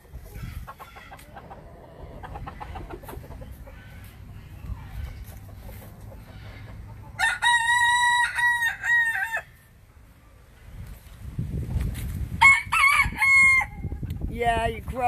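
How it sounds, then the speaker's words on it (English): A farm rooster crows twice, loud and close, each crow a long, strained call, with a rough rumble of movement and handling noise in between. "Yeah, you crow after I walk away."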